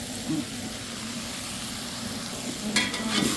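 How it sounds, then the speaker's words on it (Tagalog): Bitter bile (papait) sautéing in a pan for Ilocano pinapaitan, a steady soft sizzle and hiss throughout with a few brief stirring clatters near the end. "Gigisahin ko to para masarap"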